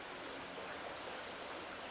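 Steady, faint broadband rush of a river flowing alongside a footpath, continuous and even with no voices.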